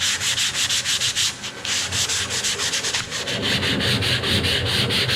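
Rhythmic, scratchy sanding strokes rasp back and forth against the painted metal of a Cat 303 mini excavator, close and loud, repeating steadily with a brief pause partway through.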